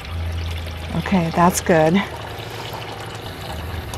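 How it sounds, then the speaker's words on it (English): Water pours steadily into a camper van's water tank, a continuous close trickle running throughout while a person speaks briefly in the middle. "I just don't want the water to overflow."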